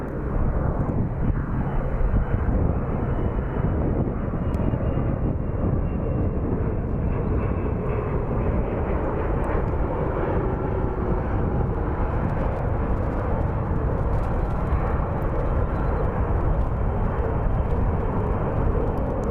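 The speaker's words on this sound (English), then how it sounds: "it's always a Learjet here at Sky Harbor" Learjet jet aircraft at Sky Harbor airport, a loud sustained engine roar and rush holding steady throughout, without speech.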